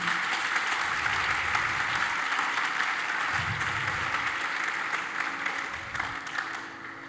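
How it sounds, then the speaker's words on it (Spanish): A church congregation claps together in sustained, dense applause that stays loud and even for several seconds, then gradually thins out toward the end. "Dele un aplauso al Señor Jesús."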